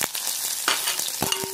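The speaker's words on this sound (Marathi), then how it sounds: "तर हा कांदा आपण छानपैकी ते लाल होईपर्यंत आपण इथे फ्राय करून घेणार आहोत।" Finely chopped onion sizzles in hot oil with mustard seeds and cumin, a short, close burst of crackling frying with quick stirring clicks.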